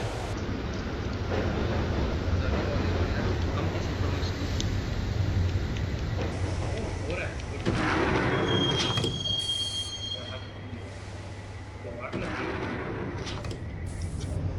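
A subway train ride in the Max Payne video game, a loud steady rumble of wheels on track with squealing, then a sharp hiss and clunk as the doors shut, fading to quieter running.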